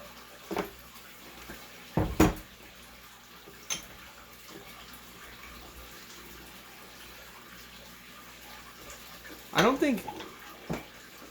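Hot water briefly poured over 10 grams of 2019 Yunnan Ye Cha raw pu-erh tea leaves for a quick rinse: two short splashing bursts spaced apart, with quiet room tone in between.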